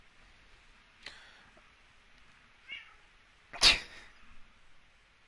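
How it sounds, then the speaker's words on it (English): A cat meows in short separate calls, three of them, the last and loudest a sharp close meow, against an otherwise quiet room. "You meowing at me?"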